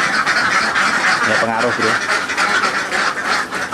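Ducks in a pen honk and quack amid a dense, continuous din of flock noise, close and loud, while someone speaks briefly over it.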